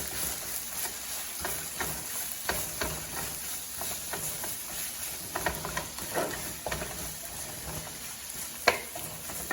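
Peppers fry in hot oil with a soft, steady sizzle while a utensil scrapes and clicks against the pan in irregular stirring strokes, heard at low volume with no talking.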